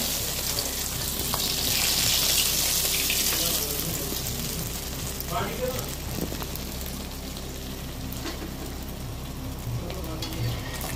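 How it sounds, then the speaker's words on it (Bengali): Stuffed luchi, filled fried bread, frying in hot oil: a continuous bubbling sizzle, close by, swelling early and then settling, with faint scraping and light clatter over it. "পুর ভরা লুচিগুলো ভেজে নিচ্ছি।"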